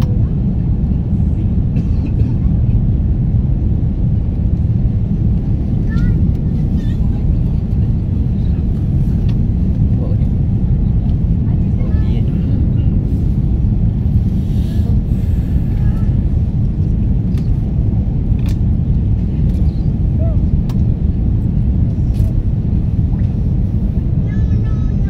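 AirAsia X airliner cabin during a bad-weather landing at Haneda airport in Tokyo, filled with a loud, constant low roar and rumble from start to end, with faint scattered clicks and knocks above it.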